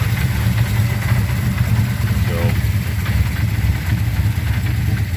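A car's loud exhaust rumbles at a steady, deep idle close by at a car show, its low throbbing drone unbroken from start to finish.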